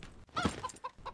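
Chickens in the video game The Witch of Fern Island cluck nearby, one louder squawking burst followed by a few shorter clucks, with no speech over them.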